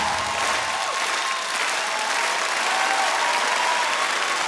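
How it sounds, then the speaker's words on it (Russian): Studio audience at a Ukrainian comedy league show applauding steadily for the Kremenchuk team Lukas, a dense, loud, sustained wash of clapping across the whole stretch. "ваши аплодисменты"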